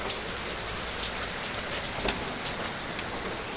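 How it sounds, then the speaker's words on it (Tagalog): Heavy rain pouring steadily over a house with laundry hung outside, a dense, even hiss with occasional louder drops and no voices. "Lakas ng ulan."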